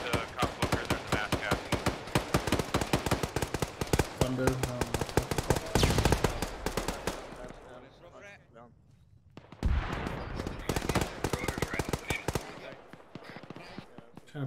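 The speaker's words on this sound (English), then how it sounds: "Bradley's shooting again." Bursts of rapid cannon fire from a Bradley fighting vehicle in ArmA 3, loud sustained volleys with a brief lull and a heavy blast before firing resumes.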